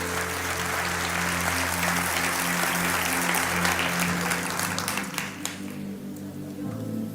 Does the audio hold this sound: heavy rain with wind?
no